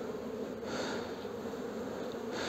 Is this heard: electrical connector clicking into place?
no